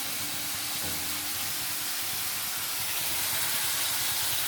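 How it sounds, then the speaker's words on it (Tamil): Onions sauté in hot oil in a pan for egg kothu parotta, giving a continuous close sizzling hiss that holds steady throughout without talk. "ஜஸ்ட்டு வெங்காயம் வதங்குறது"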